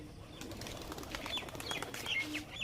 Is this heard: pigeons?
yes